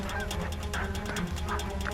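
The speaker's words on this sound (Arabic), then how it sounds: "هاي وزة جاية من ورايا، وحدها" A lone goose honks repeatedly during a bird hunt, the calls coming in quick, uneven bursts over a constant low background hum.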